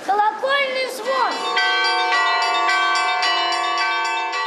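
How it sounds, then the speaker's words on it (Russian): Orthodox church bells peal at an Easter liturgy in Arzamas, ringing out bright and sustained with repeated strikes after a brief spoken voice at the start. "Взлетает радостно колокольный звон"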